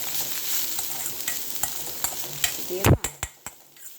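Cauliflower cooking with curry leaves in a pan, a steady sizzle broken by stirring scrapes and a few sharp knocks of the spoon toward the end, close and alone.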